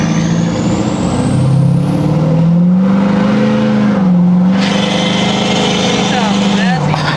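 A Ford 6.7L Powerstroke diesel truck fitted with a huge turbo revs loudly and steadily, its engine tone rising and falling through several sweeps, with a turbo whistle climbing high. Voices talk over it.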